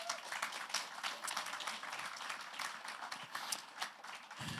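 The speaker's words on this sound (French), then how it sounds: "On peut les applaudir." Audience at a Father's Day gathering applauding, a dense patter of many hands clapping steadily throughout, moderately loud and close with no talk over it.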